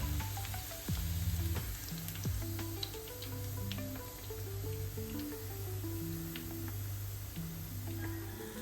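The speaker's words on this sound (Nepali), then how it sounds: "यसलाई जम्मा फ्राई हुन 10 देखि 12 मिनट लाग्छ" Chicken pakora deep-frying in hot oil, a steady continuous sizzle and bubbling throughout with faint clicks, while a soft musical tone runs underneath.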